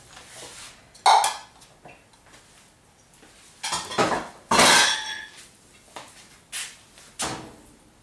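Drained canned chickpeas go into a cooking pot with tomatoes for a South Indian curry, bringing scattered clinks and clatters of a can, spoon and pot, including one louder rattling scrape and several lighter knocks.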